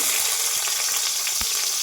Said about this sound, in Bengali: দেখো পেঁয়াজটা একটু ভাজা ভাজা করে নিব